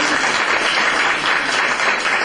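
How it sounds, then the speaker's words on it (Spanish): Steady applause from a church congregation, dense and continuous clapping filling the room at even loudness throughout, with no voices standing out. "denles un aplauso por favor a nuestros hermanos"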